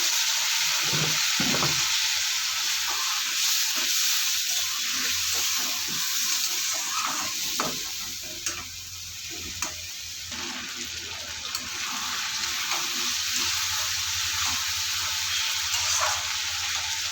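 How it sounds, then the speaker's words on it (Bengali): Fried potatoes in a pan sizzle after a splash of water is added, a steady frying hiss with intermittent scraping and clattering of a spatula, quiet and close, no speech. "এখানে একটু সামান্য পানি দিয়ে দেবো।"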